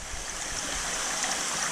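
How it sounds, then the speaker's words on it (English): Aquarium water spilling from an overflow into a quarantine tank through a homemade bulkhead and pipe, a steady close trickling and splashing rush that runs on without a break. "So this water overflows into this tank, in the first quarantine tank."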